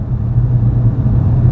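A low, steady cabin drone of a car cruising with the exhaust valve button closed, a muffled hum with almost no growl, constant and fairly loud throughout, with no talking.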